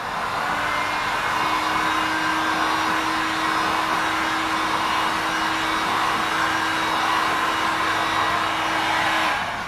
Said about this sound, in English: Now, I'll just grab the heater again and we'll just heat all that up and dry it